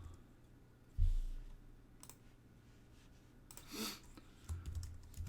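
Typing on a computer keyboard, soft scattered key clicks at close range, with a heavier thump near the start and a brief flurry of clicks later.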